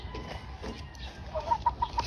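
Young Thompson White gamecock stags cluck softly and close by, giving a short run of quick, faint clucks over low background noise.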